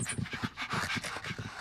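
Dogs pant indoors with rapid, close, breathy huffs in a fast rhythm, overlapping a little and ending in a faint whine.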